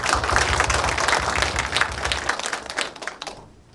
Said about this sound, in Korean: 한번 큰 박수로 좀 힘을 주셨으면 좋겠습니다.